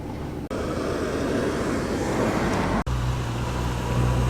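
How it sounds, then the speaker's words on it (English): Pre-war Rolls Royce car rolling in at a classic car show, a steady broad engine and road rumble with an outdoor wash around it, fairly loud and continuous with two brief dropouts. "lovely pre-war Rolls Royce gliding in"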